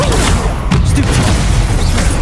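A Stupefy spell cast in Hogwarts Legacy: a single loud, booming magical blast with a burst of crackle, close and forceful, lasting about two seconds.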